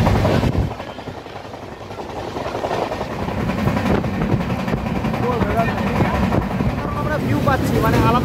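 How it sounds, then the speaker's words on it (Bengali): Dhauli Express train running at about 109 km/h, a continuous loud rumble and rattle of the carriage at speed, with a voice talking over the noise partway through. "আমাদের ট্রেন ছুটে চলেছে 109 কিলোমিটার গতিবেগে।"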